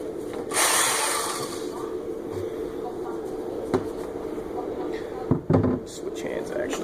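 An axe being sharpened on a Work Sharp belt sander fitted with its finest Norax polishing belt, a steady close grinding hiss throughout with a few louder bursts of contact, under quiet talk.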